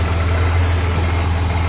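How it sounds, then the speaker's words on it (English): A Holden VT Calais engine with a sports exhaust idling, a steady, fairly loud low drone and hum throughout a short stretch, no talking. "You can tell it's got a sports exhaust"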